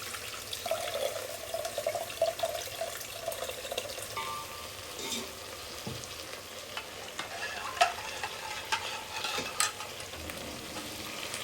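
Tamarind juice being poured and stirred into simmering sambar in a home kitchen, with soft liquid swirling, utensil clinks and faint sizzling running steadily, no talk.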